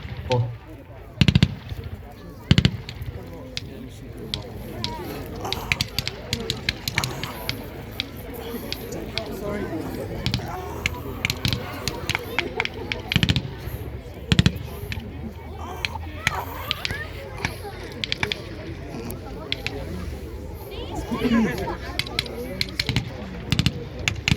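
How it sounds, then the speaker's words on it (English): Machine guns rattle in a steady stream of sharp, fairly distant reports during an army combat display at Gallipoli Barracks, heard beneath continuous commentary from someone speaking. "the machine guns provide a high rate of accurate fire to suppress and fix the enemy"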